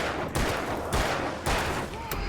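Four loud, evenly spaced shotgun blasts from the video game Alan Wake, each a sharp boom with a brief rumbling decay, playing over a constant bed of dense game noise.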